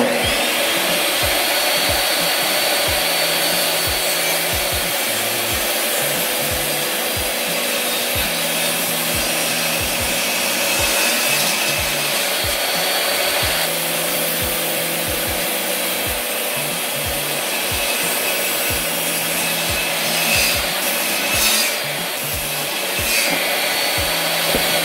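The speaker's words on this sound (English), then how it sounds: "since I got a table saw, I'm going to cut these on a table saw" A table saw cuts wood pieces for a heavy engine-part shipping crate, giving a steady loud whirring buzz with rasping bite throughout, nearly continuous with slight swells as boards feed through.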